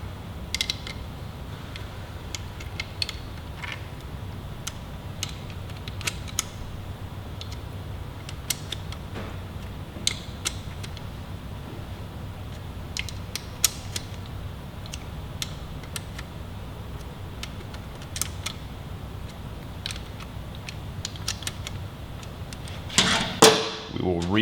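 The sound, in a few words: tightening Kawasaki Ninja 400 engine cover bolts in stages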